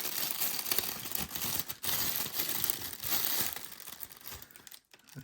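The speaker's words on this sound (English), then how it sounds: "Take it out of its plastic." A new Casio WV-59RD wristwatch is pulled out of its plastic wrapping, giving loud, close crinkling and rustling with a few sharper crackles and brief pauses. No one speaks.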